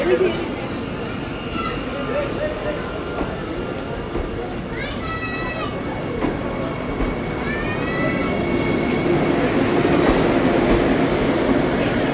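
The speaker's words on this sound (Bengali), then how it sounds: "বন্দে ভারত আমাদের বোলপুর শান্তিনিকেতন নামিয়ে বেরিয়ে গেল তার নির্দিষ্ট গন্তব্যে" A Vande Bharat express train departs Bolpur Shantiniketan station, rumbling steadily and growing louder toward the end, with brief high squeals and metallic screeches partway through, plus faint voices in the background.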